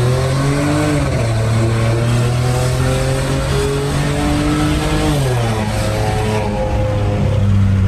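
Volkswagen Polo TSI with a stage 2 tune revving hard, loud close engine note rising and falling through several throttle sweeps with no talk.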